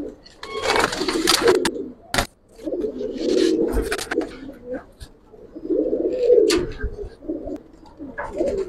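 Giribaz pigeons of the Palla line in a pigeon collection, cooing in repeated low throaty bursts close by, with soft rustling and sharp clicks between the calls.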